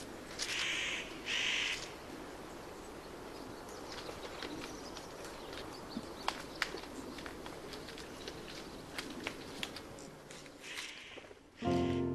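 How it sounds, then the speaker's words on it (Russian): Spotted nutcracker in Siberian taiga near the upper Lena River, harsh crow-like calls in two short bursts near the start, then scattered clicks and rustles against a steady outdoor background, with a louder burst at the very end. "Это небольшая птица-кедровка"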